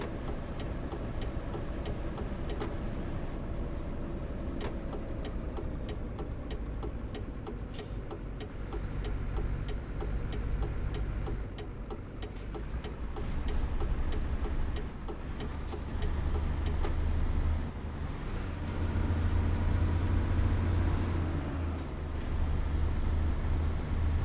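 Steady engine drone and road rumble of a heavy truck driving in Euro Truck Simulator 2, continuous and fairly loud with low-pitched hum, no talk.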